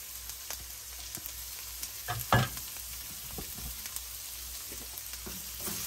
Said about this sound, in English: we're going to saute that for 3 to 4 minutes until the carrots get tender